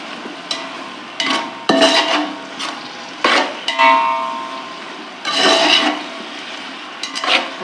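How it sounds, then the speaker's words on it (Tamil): Chicken biryani ingredients with mint and coriander being stirred in a pot, giving repeated scraping and clanking bursts of a spoon against metal in an irregular rhythm, close and fairly loud, with no talking. "நல்லா கிளறி விட்டுக்கலாம்."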